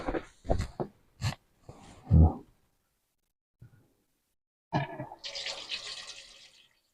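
A few knocks and clunks, then a short hissing rush of water spurting from a leaking frost-free tap before trailing off.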